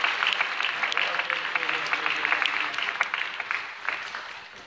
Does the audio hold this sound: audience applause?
yes